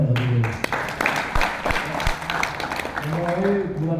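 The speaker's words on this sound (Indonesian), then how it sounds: "Tepuk tangan ya." Scattered applause from a crowd at a Labour Party roadshow rally in Riau, moderate clapping mixed with a voice talking over a microphone.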